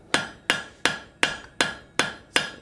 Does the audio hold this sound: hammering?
yes